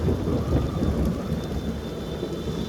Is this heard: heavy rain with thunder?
yes